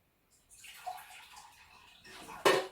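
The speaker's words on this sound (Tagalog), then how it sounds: "maglalagay tayo ng tubig. Lagyan natin tubig ito." Water poured from a container into a cooking pot while making Spanish-style bangus (milkfish) in olive oil, a soft splashing stream building over a couple of seconds, then a louder final splash near the end.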